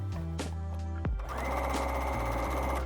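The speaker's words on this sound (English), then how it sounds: "lift your presser foot and sew all the way down the other side of the slit" A sewing machine stitches down the other side of a skirt slit seam, starting with a brief hum, then settling into a steady, close, continuous whir of rapid stitching.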